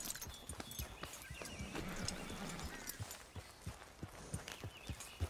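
Horse hooves clop in a steady walking rhythm, faint and somewhat distant, repeated hoofbeats over a soft background hiss without speech.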